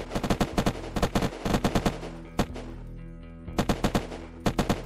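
Automatic gunfire in Unturned PvP rattles in rapid bursts of close, loud shots, with a brief lull before more volleys follow.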